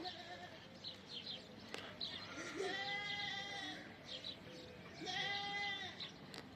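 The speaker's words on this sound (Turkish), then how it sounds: "Bizim koyunlar orada duruyorlar." Sheep bleat repeatedly at a moderate distance, several wavering calls overlapping in an outdoor setting.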